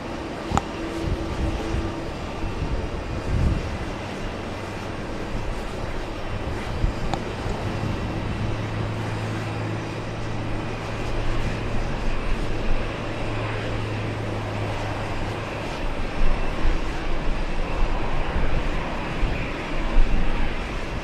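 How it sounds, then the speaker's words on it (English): American Airlines flight 1049 from the Dominican Republic arrives on runway 22 right at JFK, a broad steady jet roar that swells and ebbs over about twenty seconds, heard from a distance with no talk. "we're gonna have an arrival on 22 right. It's American 1049 flying in from the Dominican Republic"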